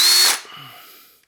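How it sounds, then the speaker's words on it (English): A fake Makita impact driver overdriving screws: one loud, harsh burst of rapid hammering that cuts off abruptly and leaves a faint fading ring. "not being particularly nice to those screws, because not only am I using the wrong bit, but I'm overdriving them"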